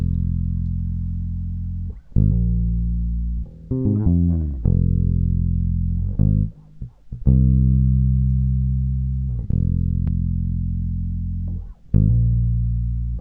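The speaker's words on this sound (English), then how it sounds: "So I decided to learn and play the bass line I was hearing on my bass guitar" Bass line on a bass guitar, played alone: deep sustained plucked notes in a slow repeating phrase, each attack ringing and fading before the next.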